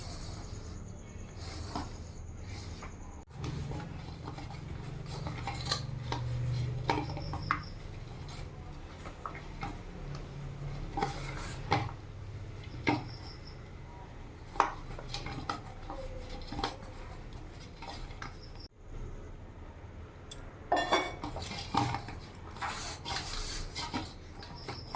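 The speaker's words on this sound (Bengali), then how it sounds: "এবার অল্প অল্প জল দিয়ে আমি ভালো করে মেখে নেব" Paratha dough is kneaded with small splashes of water in a bowl, giving soft squishing, rubbing and slapping with occasional knocks against the bowl, close and fairly quiet, running irregularly over a low background hum.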